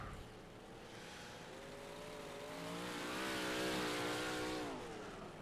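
A big block modified race car rolls out on a qualifying lap at Kokomo, its engine note rising and falling steadily as it accelerates through the turns, loud and close and peaking midway before easing slightly.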